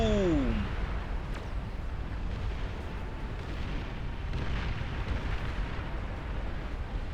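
Nuke bombers unleash explosions in the real-time strategy game Beyond All Reason, a loud, dense rumbling roar of blasts that keeps going for the whole stretch with no speech over it.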